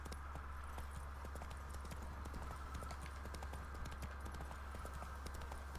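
Roach, Geralt's horse in The Witcher 3: Blood and Wine, clip-clops at a steady walking rhythm across ground, a dense run of hoofbeats under continuous ambient game music.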